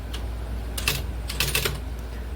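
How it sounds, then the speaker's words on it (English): A daisy wheel typewriter types out a short test, sharp mechanical clacks arriving in quick irregular clusters over a low steady motor hum, close and fairly loud. "a little type test, even though I don't have to worry about sticky keys with this"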